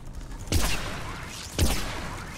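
Two electric arc pistol shots in a shooter video game, each a sharp crackling zap that sweeps down and trails off into a buzzing tail, about a second apart, fairly loud with no talking.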